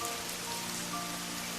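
Steady rain falls in a village under a cool wind, a soft continuous patter with faint tonal music underneath.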